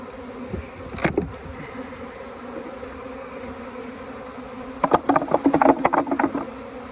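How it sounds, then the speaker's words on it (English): Honey bees in a hive box give a low, steady buzz, broken by a few sharp knocks early on and a burst of rattling, thumping handling noise near the end as the box is moved. "this box has got some bees in it"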